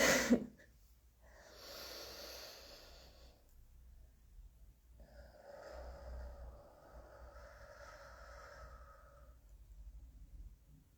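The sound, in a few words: slow comfortable breathing during relaxation exercise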